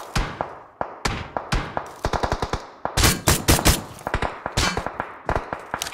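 Gunfire in PUBG Mobile coming from behind the player, loud close shots in rapid uneven bursts, some single cracks and some fast automatic strings, continuing without pause.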